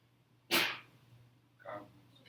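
A single sharp sneeze bursts out in a quiet room, followed by a softer sniff or breath a moment later.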